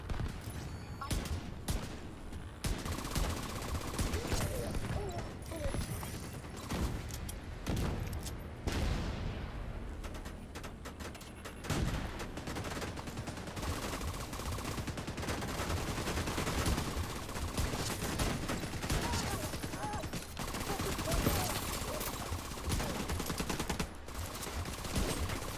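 Gunfire rings out through a Countdown match, with shots packed close and loud, some in rapid bursts. Other game sounds surround the shooting, and a voice can be heard now and then.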